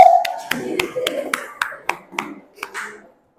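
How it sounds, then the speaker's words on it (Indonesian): Classroom applause for a student group comes as a short run of about ten separated claps, crisp and fairly close, fading out after three seconds. "Oke, tepuk tangan buat kelompok 1."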